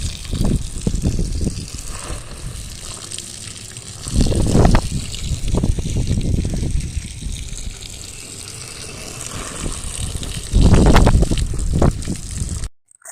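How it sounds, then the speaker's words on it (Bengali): Hose water gushes and splashes onto a rooftop garden bed, soaking the soil in a steady rush that swells louder in two bursts before stopping abruptly. "পাইপ দিয়ে জল দিয়ে পুরো বেডটাকে একদম ভিজিয়ে দিচ্ছি"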